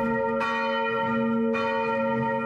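Church bells ring from a tower of the cathedral of Saint-Flour, set 900 metres up, with sustained resonant tones and two fresh strikes layered over a steady hum, with no voices.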